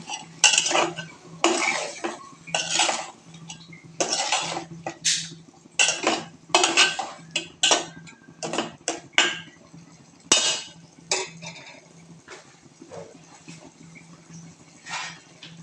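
Metal spoon repeatedly clanking and scraping against a pan while stirring potatoes with beef liver, a steady series of loud, close knocks and scrapes with a low hum underneath and no talking.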